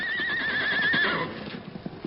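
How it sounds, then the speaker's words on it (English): Scout, Tonto's horse, lets out a loud, close neigh lasting about a second, followed by scattered hoof clops and movement. "That scout, Tonto's horse."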